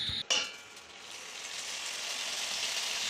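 Onions frying with ginger and garlic paste for egg curry: a steady, close sizzle and hiss, with a brief clatter of stirring at the start, then continuous frying noise.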